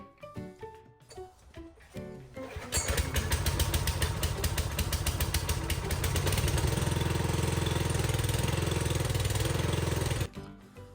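A walk-behind petrol cultivator, in use for 22 years and freshly filled with 5W-30 oil, starts after a few seconds of handling noise, then settles into a steady, loud, close idle that runs to the end before cutting off.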